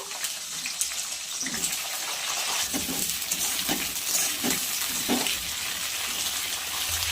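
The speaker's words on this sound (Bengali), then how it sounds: "সিমগুলো আগে একটু ভেজে নেব" Flat beans fry in a pan of hot oil tempered with nigella seeds, giving a steady, close sizzle with faint stirring and scraping and no talking.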